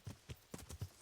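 Horse hooves clopping in a steady trotting rhythm while riding at midnight in Kingdom Come: Deliverance, soft, close and alone, with about six distinct hoofbeats.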